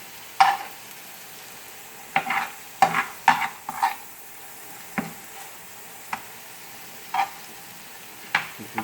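Potatoes and scallops are stirred in a pan, with a string of separate scraping and clacking utensil strokes over a soft sizzle. The strokes are close and come at irregular intervals, with no speech.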